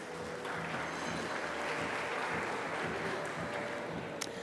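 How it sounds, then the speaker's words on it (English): Audience applause for a panel at a financial industry conference, a steady, dense wash of clapping throughout, fairly faint and distant-sounding in a large hall, with one sharp clap standing out near the end. "Let's give them a round of applause."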